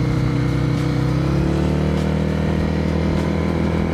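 A CVT cruiser motorcycle pulls away without any gear changes, its engine hum steady and close with a smooth, continuous drone and no shift breaks.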